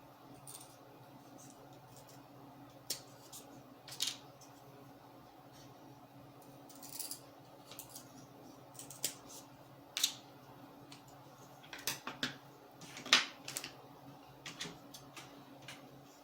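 Quiet crisp snips and clicks of scissors cutting a wooden popsicle stick, spaced irregularly over a faint background hum, with no talking.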